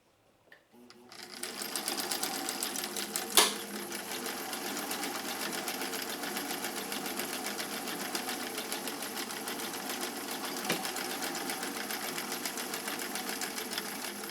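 Sewing machine running steadily on a red stitch with a longer stitch length, a continuous rapid mechanical whir close by after a quiet start, with brief clicks early and midway.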